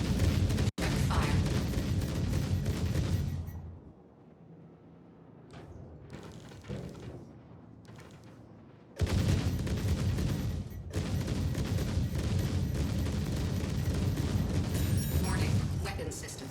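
Spaceship weapons in a space combat game, firing in long, dense, loud volleys with a quieter gap of scattered impacts between them; voices speak under the barrage.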